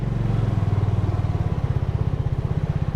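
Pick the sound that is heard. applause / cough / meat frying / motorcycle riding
motorcycle riding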